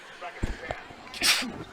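A single short, sharp sneeze bursts out partway through, loud and close, with a bit of murmuring around it in the broadcast booth at a high school football game, Greencastle at Waynesboro.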